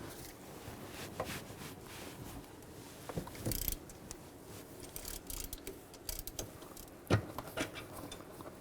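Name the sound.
ratchet with 15mm socket removing alternator bolts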